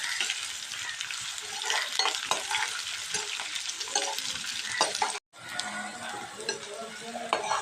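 Onion pieces and green chillies fry in a pan for a potato fry, giving a steady close sizzle with scraping stir strokes throughout and one brief silent break near the end.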